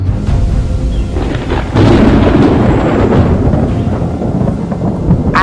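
Thunder from a distant lightning storm rolls in a long, deep, continuous rumble that swells louder partway through, with a rain-like hiss beneath it.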